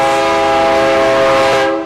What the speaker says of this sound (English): Trains travel along Highway 77 as many as 12 times a day